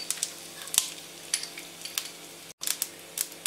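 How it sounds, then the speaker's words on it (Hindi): Mustard seeds and cumin with asafoetida crackling in four tablespoons of hot oil, sharp irregular pops and snaps over a soft sizzle, close and fairly quiet. "जीरा क्रैकल हो गया है।"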